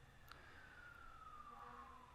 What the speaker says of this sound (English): That's a fire engine and possibly police.